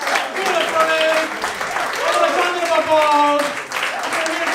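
Comedy night audience applauding at the end of a show, a full round of clapping with cheers and voices rising over it throughout.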